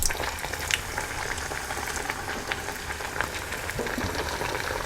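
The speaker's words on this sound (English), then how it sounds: "We'll find out as soon as we put in the potato pancake." A potato pancake (latke) frying in hot oil, a continuous close sizzle with scattered pops and crackles.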